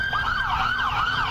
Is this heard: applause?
no